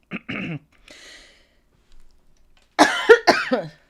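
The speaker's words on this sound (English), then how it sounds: "I'm sorry, I'm coughing a little bit." Several short, harsh coughs, a couple at first and then a louder burst near the end, with quiet breathing between them.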